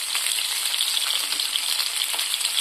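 Chopped onion and tomato sauté with salt in a hot pan, giving a close, steady sizzle with light crackles and faint stirring scrapes throughout.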